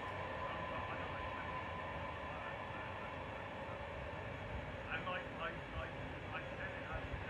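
Train moving off into the distance and rounding a corner at Worle, a faint low rumble of wheels and carriages with a few squealing screeches of rail on the curve, under a quiet voice talking.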